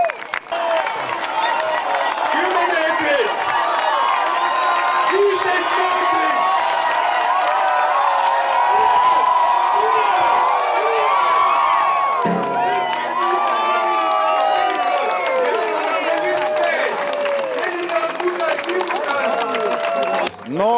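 An outdoor crowd at a strongman competition by Lake Pühajärv applauds and cheers continuously, a loud, dense wash of clapping and shouts with an announcer talking over it throughout.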